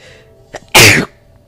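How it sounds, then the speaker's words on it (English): A single loud, close sneeze bursts out after a short intake of breath, with quiet room tone before and after. "I know it's so annoying when people sneeze in commentaries"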